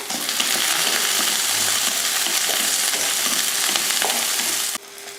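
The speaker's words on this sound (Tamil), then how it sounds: "சேர்த்துட்டு கொஞ்சம் எண்ணெய் ஊற்றி இதை வதக்கிடலாம்" Shallots, garlic and ginger fry in hot oil for a mutton kuzhambu masala, giving a dense, loud, continuous sizzle that cuts off abruptly near the end.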